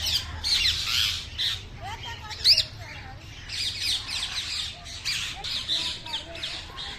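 Rose-ringed parakeets at Jawalakhel Zoo give repeated harsh, shrill squawks over several seconds, with one louder burst midway, set against steady zoo ambience and faint background voices.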